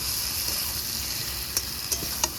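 Potatoes sauté with spices in a hot pan, giving a steady hiss of sizzling oil and a few brief scraping knocks from stirring near the end, close and clear with no talking.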